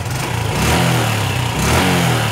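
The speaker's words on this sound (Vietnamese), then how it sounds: "Rồi bây giờ là mình nổ máy cho anh em xem thử rồi đó." Honda Future 125 motorcycle with a raised-lift camshaft, engine running close by with a loud, steady mid-pitched drone and slight rev swells.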